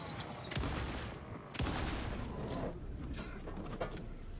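Hunting shotgun blasts in Alan Wake 2, a few sharp booming shots spaced about a second apart over a dense, muffled game soundscape, fairly faint overall.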